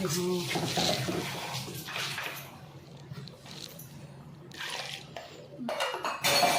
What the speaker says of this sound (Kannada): ಇವಾಗ ಜಾರಿಗೆ ಇನ್ನು ಸ್ವಲ್ಪ ನೀರು ಹಾಕ್ಕೊಂಡು ಸೇರಿಸ್ಕೊತಾ ಇದ್ದೀನಿ